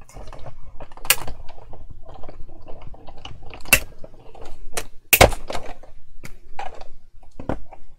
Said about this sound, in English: you'll be needing the small die cutting machine for this one